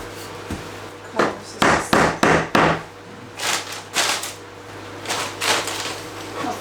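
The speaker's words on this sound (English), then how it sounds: "It's gonna need the hammer, that one." Hammer tapping tongue-and-groove wooden flooring boards into place in a garden office, a run of sharp, close knocks in irregular bursts, some quick doubled strikes, with no talk.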